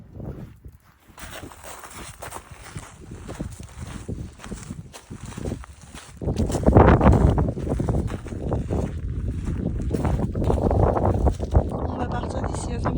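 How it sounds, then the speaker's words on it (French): Rising wind in fog high on Mount Fuji out of season, low rumbling gusts that swell and grow louder partway through, with no speech. "Brouillard et le vent se lève."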